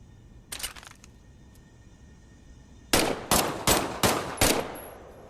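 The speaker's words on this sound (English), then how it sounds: "why don't you test fire your weapon?" A weapon test-fired during Medal of Honor training: one short burst, a pause, then four loud, sharp shots fired in quick, evenly spaced succession, each with a brief ringing tail.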